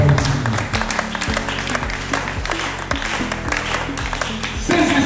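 A church congregation applauds and acclaims Jesus, sustained loud clapping and cheering from a crowd, steady throughout with music underneath.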